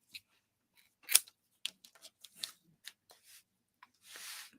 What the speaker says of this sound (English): Let's trim these little tails.